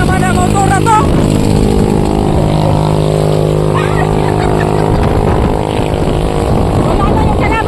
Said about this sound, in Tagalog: Ano ba naman ang motor na to?